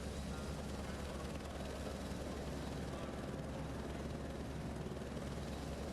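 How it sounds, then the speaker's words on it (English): Helicopter engine in a racing video game, idling before takeoff at the Hungaroring: a steady, dense broadband rotor and turbine drone that holds constant and fairly loud throughout, with no talk over it. "as you can see, the helicopter's waiting to go."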